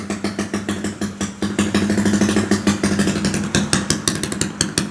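A Yamaha LC135 with a standard 65 bore and an NLK copy exhaust runs close by, a steady idle chatter with small throttle blips, loud and continuous without talk.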